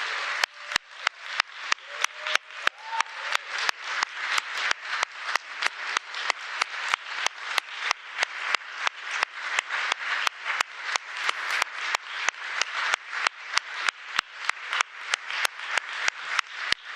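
A conference audience applauds people coming onto the stage. It is a sustained, fairly loud round of clapping with a steady, rhythmic pulse running through it for the whole stretch.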